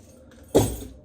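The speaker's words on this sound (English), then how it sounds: "let me put my keys away, it's really distracting me" Keys jangle once as they are pocketed or set aside, a short close metallic clatter that fades quickly after a quiet lead-in.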